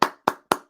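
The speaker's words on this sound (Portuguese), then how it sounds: "nós estamos aqui aplaudindo você de pé." Hand claps, four sharp close claps at an even rhythm with quick decays and silence between, no voices.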